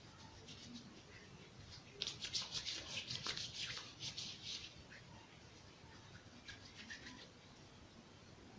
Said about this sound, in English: I'll be rubbing them together to mix them.